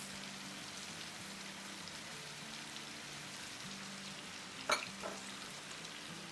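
Fried onions and yogurt sizzle steadily in a pan for chicken biryani with potatoes, a soft continuous frying hiss with one brief clatter of stirring near the end.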